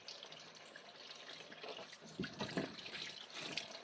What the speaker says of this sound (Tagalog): Ito, hugasan natin to. Baka mawala ang kalawang.